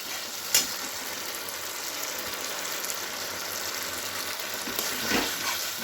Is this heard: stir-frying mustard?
yes